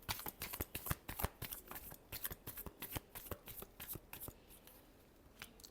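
Tarot cards being shuffled by hand, a rapid run of crisp riffling flicks and taps close up, slowing and thinning toward the end, with no voices.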